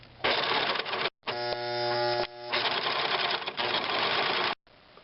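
A sewing machine stitches fabric while staystitching an armhole a quarter inch from the edge, its close, loud motor whirring in long steady runs broken by brief stops, the second run carrying a stronger mechanical hum.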